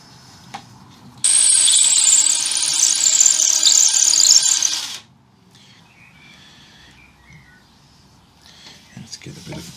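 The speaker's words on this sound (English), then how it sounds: "I haven't yet drilled a hole for the wire to go from the bridge into the pickup cavity." A drill bores a wire hole through an electric guitar body from the bridge to the pickup cavity, one loud steady whine of about four seconds, close up, then quiet workshop noise.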